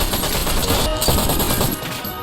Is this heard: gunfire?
yes